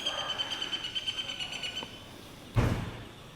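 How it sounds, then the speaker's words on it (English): Birds chirping around a townhouse in Thailand, a steady run of repeated high calls over the first two seconds, then a short sharp knock or thud near the end. "A lot of birds here."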